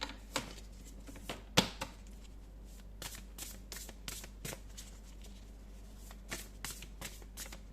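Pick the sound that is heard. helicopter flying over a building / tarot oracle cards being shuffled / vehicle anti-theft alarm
tarot oracle cards being shuffled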